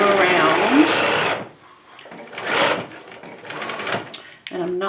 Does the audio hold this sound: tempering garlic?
no